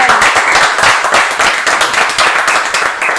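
Loud, dense clapping fills the room during a celebration on a board-game talk show couch, with sharp close hand claps in an irregular flurry and little else over it.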